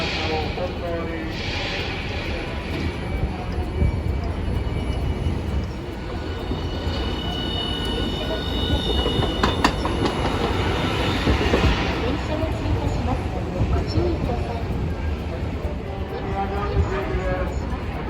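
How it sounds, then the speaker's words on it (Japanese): A Hiroshima Electric Railway streetcar passes at Hiroshima Station, its steady rumble and wheel noise holding for the whole stretch, with a station announcement voice heard over it. "電車が通過します。"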